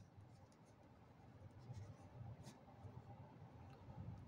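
Pen writing a maths solution by hand on paper, a soft continuous scratching with short strokes, quiet and close, with no talking.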